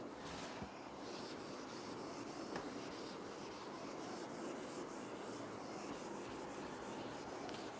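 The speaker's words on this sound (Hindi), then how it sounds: "इसको मैं रब कर देता हूँ थोड़ा सा" Steady broadband rubbing of an eraser or duster wiping writing off a classroom board, a continuous scrubbing texture that runs the whole time at an even level, close and alone with no voices.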